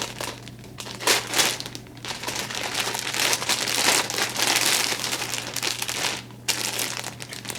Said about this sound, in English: we're gonna open the little plastic now.